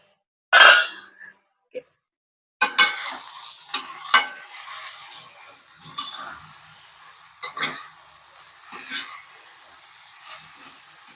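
Leafy greens go into a hot pan, with a loud initial sizzle followed by scraping spatula stirs and crackling frying, close and intermittent, no voices.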